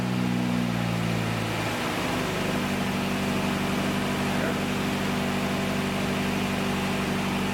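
A 1954 MG TF 1250 engine idles low and steady after sitting unused for ten years. It gives a loud, close, continuous rumble with a slight shift in tone near the start, and there is little or no talk over it.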